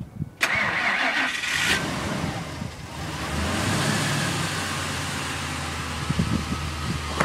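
A Ford F150 engine starts cold at -15C: a brief crank catches into a loud rough surge, then settles into a steady low idle that stays close and dominant to the end.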